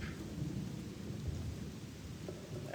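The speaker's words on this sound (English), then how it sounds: "Seriously, now it's raining." Rain and thunder in the video game Gothic: The Chronicles of Myrtana: Archolos give a soft, continuous patter with low thunder rumbling underneath, fairly quiet, with no speech.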